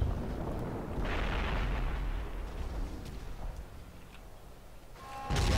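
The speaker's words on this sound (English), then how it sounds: "Well, I keep firing my two mortars." Mortar and artillery fire in the Company of Heroes World War II strategy game: heavy booming blasts and rumbling impacts, with a loud burst near the start and another at the end, against a low rumbling battlefield background.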